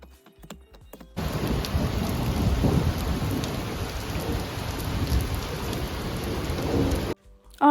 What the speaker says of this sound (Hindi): और थोड़ी देर बाद कुछ ज़्यादा ही बारिश होने लगी